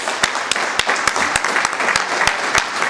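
A crowd applauding at a community foundation's dinner, dense steady clapping with a few sharp individual claps standing out, loud and close.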